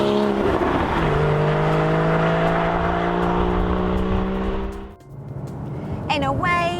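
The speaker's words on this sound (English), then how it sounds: "the distinctive flat six wail from over my shoulder, I've now jumped into the Boxster" A 2015 Porsche Boxster's flat-six engine wails loudly and steadily as it pulls hard through the gears, pitch climbing in long sweeps before a sudden dip and a fresh rising howl near the end.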